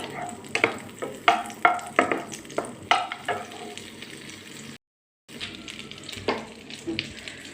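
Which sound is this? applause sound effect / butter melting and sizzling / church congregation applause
butter melting and sizzling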